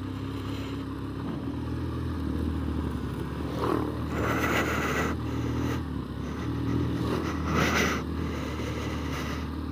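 KTM motorcycles pass by at moderate distance, a continuous engine drone that swells twice as the bikes go past, with no talking.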